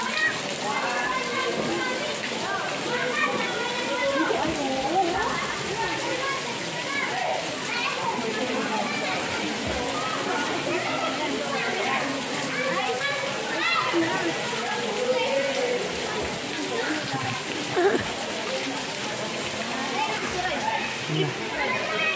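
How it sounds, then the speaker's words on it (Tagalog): A waterfall at a river resort rushes in a steady, broad hiss of falling water, with people talking and children's voices heard over it throughout. "Kaya nandito tayo sa waterfall."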